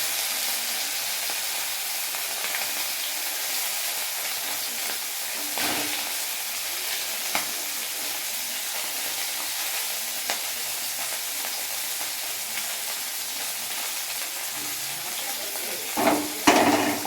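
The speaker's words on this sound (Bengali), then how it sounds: "আমি ট্যাংরা মাছ ভাজছি" Tangra fish frying in a pan, a steady, dense, hissing sizzle that holds evenly for a long stretch, close by, with a few soft clicks and a brief clatter near the end.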